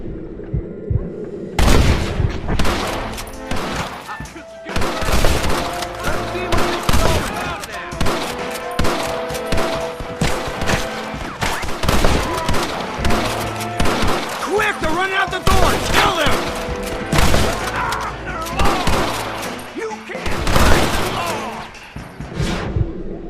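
A gunfight with snipers in the Red Dead Redemption video game: dense, rapid bursts of gunshots and booming blasts crack out continuously for the whole stretch, loud and close, with no clear pauses.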